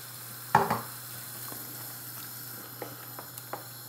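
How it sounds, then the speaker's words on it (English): Coconut milk poured into a pan of fish kalia curry base, a low steady sizzle with a sharp splash and bubbling at the start and a few faint clinks afterward. "I'm going to go in with about half a tin of coconut milk."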